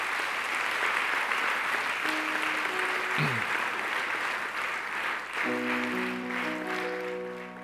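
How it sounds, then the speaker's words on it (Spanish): A church congregation applauds during a sermon, a steady wash of clapping held at moderate level throughout, with sustained musical tones rising beneath it toward the end. "Un aplauso a Dios por eso."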